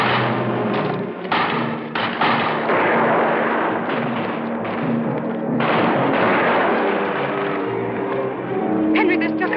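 Rapid volleys of gunfire and heavy thuds fill a pirate film battle on an island, with voices shouting over the continuous din.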